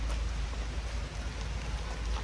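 Rain pours steadily at a toy train stop in a Bengal safari park near Siliguri, a continuous broadband hiss with deep rumble underneath, even and close, with no voices over it.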